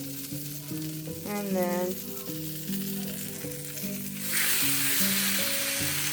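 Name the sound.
slice of bread sizzling while frying in a skillet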